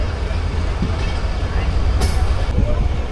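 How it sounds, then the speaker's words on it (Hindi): The Rehman Baba Express passenger train pulls out of Bin Qasim station on its Karachi to Rohri run, a loud, steady rumble of wheels and carriage noise heard from inside, with a brief higher squeal partway through. "चलें, बिन कासिम से निकल रही है ट्रेन हमारी।"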